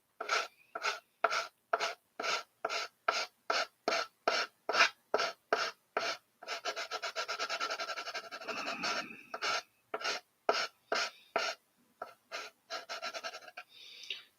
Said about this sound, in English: I hope this sanding is not just like completely blowing everyone away on the microphone.